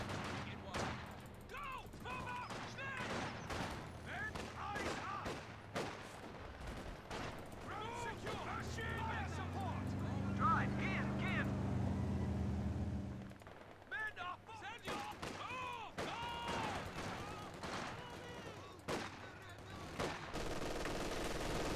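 Machine gun fire in the Company of Heroes strategy game, dense rattling bursts and scattered cracks across a busy battlefield with a low rumble mid-stretch, mixed under ongoing talk.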